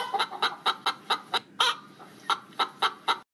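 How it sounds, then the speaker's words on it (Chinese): A mother hen that has just laid an egg clucks nearby in a series of about a dozen short, loud, evenly spaced calls, with a brief pause midway. "原来是母鸡妈妈，它刚生完鸡蛋，它很开心。"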